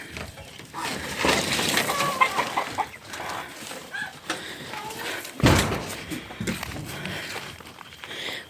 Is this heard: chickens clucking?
yes